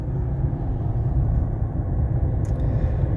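A 2006 Mercedes E320 CDI diesel sedan on the road, heard from inside as a steady low engine and road rumble with a brief faint noise near the end.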